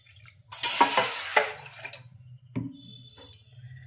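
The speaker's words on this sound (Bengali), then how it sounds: "আমি গ্যাসে একটা পাত্র বসিয়েছি, জল দিয়ে দিচ্ছি" Water pours into a pot sitting on a gas stove, a short splashing stream near the mic that stops, followed by a few faint clinks.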